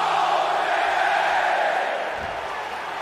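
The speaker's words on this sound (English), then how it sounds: "whenever he taunts, the crowd's gonna say Adam Cole, Bay Bay" Arena crowd in WWE 2K22 loudly chanting 'Adam Cole, Bay Bay' during his taunt. The broad, roaring chant holds steady and then eases off slightly toward the end.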